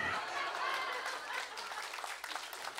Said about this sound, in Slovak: Ďakujem veľmi pekne, milí priatelia, za tento krásny aplauz.